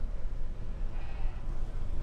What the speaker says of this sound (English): Oh, but the sheep are out.